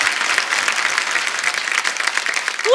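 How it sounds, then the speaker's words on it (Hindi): Loud, steady applause from a studio audience at the Kapil Sharma Show, dense clapping filling the whole stretch without a break and no voices standing out. "जोरदार तालियों से स्वागत कीजिए बच्चों का।"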